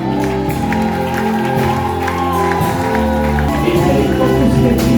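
A church congregation claps and cheers loudly and steadily, a dense wash of applause and raised voices mixed with music and sustained tones filling the whole stretch.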